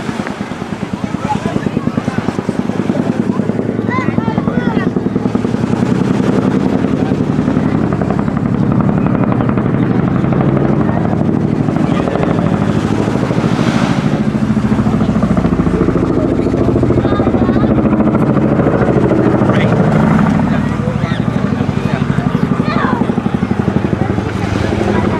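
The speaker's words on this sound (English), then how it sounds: "fabulous sound of the Chinook blade slap" Loud, sustained Chinook helicopter noise at an airshow, with a deep rhythmic rotor blade slap and engine roar, close by and steady throughout.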